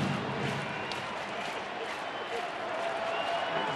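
Baseball stadium crowd at US Cellular Field during a Royals at White Sox game, a steady roar of cheering and clapping that fills the ballpark, loud and continuous with no speech on top.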